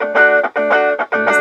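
Slightly overdriven electric guitar played through a Marshall MS-2 micro amp, three short strummed chord bursts with gritty edge and brief gaps between them, loud and close with no talking.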